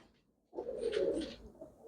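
Pigeon cooing close by: a single soft, rolling coo that swells after a brief pause and holds for over a second, with no talking.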